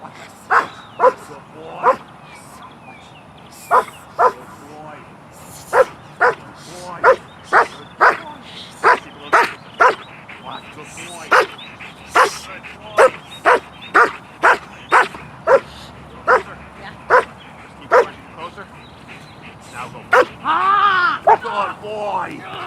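A protection dog barks repeatedly and loudly nearby at a stranger in public, in sharp, evenly spaced bursts, with a few yips and whines mixed in near the end.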